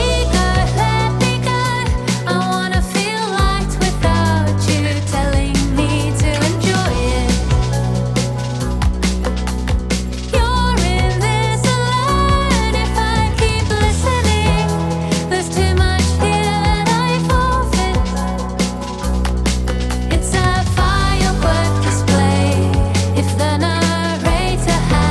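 A whimsical pop song, built around a harp, plays continuously with plucked melodic lines over steady bass and layered accompaniment.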